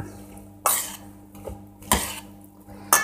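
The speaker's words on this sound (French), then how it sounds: "Donc on va pouvoir bien mélanger." Butternut being stirred into a sauce in a pan while making truffle ham croque-monsieur: a few sharp utensil clinks and scrapes against the pan, spaced about a second apart, close and moderately loud over a quiet kitchen background.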